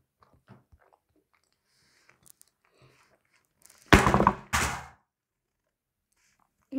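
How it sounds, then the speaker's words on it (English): A camera falling over lands as a couple of sharp, loud thuds and clatters close to the microphone, following near silence with faint scattered ticks. "my camera fell"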